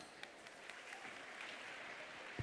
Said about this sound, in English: Dear audience, they definitely need a thunderous applause.